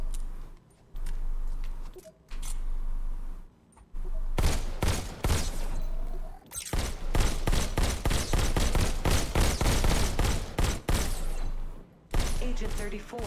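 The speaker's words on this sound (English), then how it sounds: "Just squeeze the trigger to shoot." Pistol gunshots in the Robo Recall VR game, sharp cracks fired in rapid bursts and long strings, loud and close, with brief pauses between volleys.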